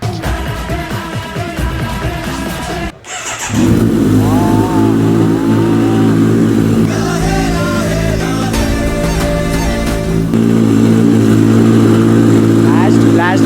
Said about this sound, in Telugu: 1 month తర్వాత కోల్డ్ స్టార్ట్, క్రేజీ అంటే క్రేజీ సౌండ్ ఉంటుంది చూడండి